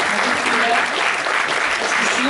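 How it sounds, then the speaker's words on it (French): An audience applauds the production team of a film at a screening event, a dense wash of steady clapping filling the room without letup for a couple of seconds. "Bravo, on peut applaudir la production aussi du film"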